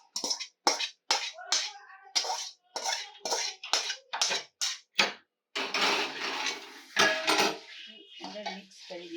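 Potatoes, onion and tomato being mixed into poha, with repeated clinks and scrapes of a spoon against a pan in quick bursts, then a longer stretch of stirring, close and fairly quiet.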